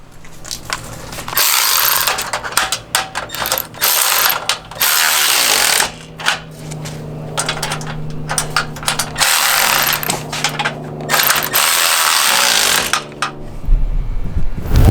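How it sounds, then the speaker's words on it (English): A bolt being tightened on a Jeep TJ over-the-spare hitch basket with a ratchet: rapid, close, loud clicking in repeated bursts with short pauses between strokes. "I'll go ahead and tighten up that other bolt."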